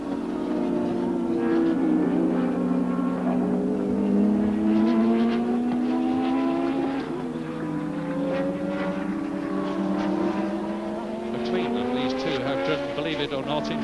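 Formula One race cars at the 1984 Austrian Grand Prix scream past, their engines rising and falling in pitch as they go through, loud and sustained under steady commentary.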